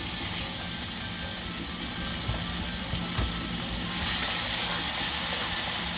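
Chopped tomatoes frying in a hot pan for turkey stuffing, a dense close sizzle that swells louder toward the end, with a few light stirring knocks and no talking.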